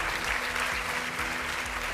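Studio audience applause greeting guests on a televised political debate show, a dense steady wash of clapping running unbroken and fairly loud throughout.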